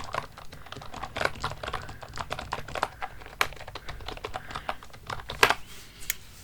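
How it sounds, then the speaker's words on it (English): Typing on a cheap InPet computer keyboard, a fast run of crisp, close plastic key clicks with uneven rhythm and a few sharper louder presses, with no speech. "I have here this nice InPet keyboard here."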